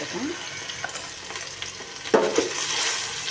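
Ginger garlic paste sizzles and crackles in a hot pan, with a few scraping stirs and a steady frying hiss throughout.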